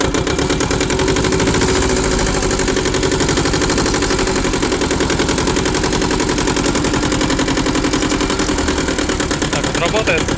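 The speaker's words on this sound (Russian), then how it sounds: "Так вот работает. Достаточно ровненько. Двухцилиндровый мотор Yanmar." A Yanmar YM1300 two-wheel-drive compact Japanese tractor with a two-cylinder engine runs steadily, a loud, close, rapid chugging rumble that stays even throughout.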